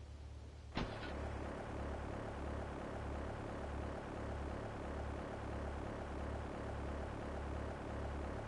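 Propeller airplane engine revving for takeoff in Grand Theft Auto III, a steady droning hum with a pulsing beat that holds at constant strength after a brief click at the start.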